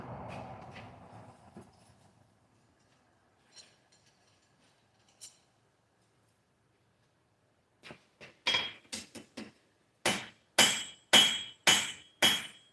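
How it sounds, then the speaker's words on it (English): A smith forging on an anvil strikes half-faced hammer blows, a few scattered taps followed by a run of sharp, ringing metallic hits in a steady rhythm, with no talking. "It's called a half-faced blow. I'm hitting half on the anvil and half off."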